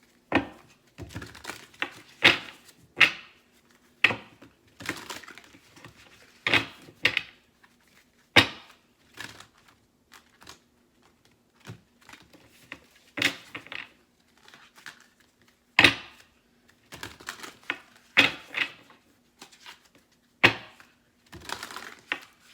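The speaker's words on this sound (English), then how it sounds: "I'm going to shuffle." A deck of tarot cards is shuffled by hand, producing irregular crisp riffles, snaps and taps in clusters separated by quiet gaps, close and fairly soft over a faint hum.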